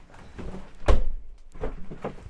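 The bathroom door of a 2024 Bailey Adamo 75-4I caravan is moved, producing a firm thunk and knock followed by softer rattling shuffles, close by.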